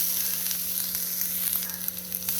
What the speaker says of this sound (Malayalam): ഇനി നമുക്കിത് നന്നായിട്ട് വറുത്തെടുക്കാം